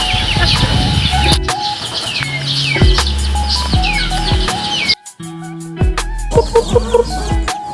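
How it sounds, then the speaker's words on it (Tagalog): Aseel chickens clucking and calling repeatedly, close by, with scattered short squawks and bird chirps in the background. "ang breed o ang lahi po ng aking mga alagang manok ay tinatawag po itong Asel"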